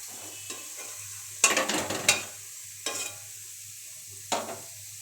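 Food is stirred in a pan with soft sizzling, and several distinct scraping strokes of a spoon against the pan stand out over a low background hum.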